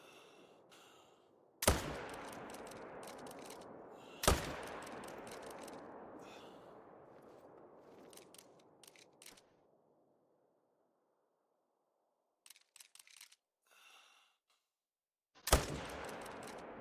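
A rifle fires at a roe deer in the hunting game Hunter: Call of the Wild. Three loud, sharp shots ring out with long decaying tails, separated by quiet gaps with faint small noises.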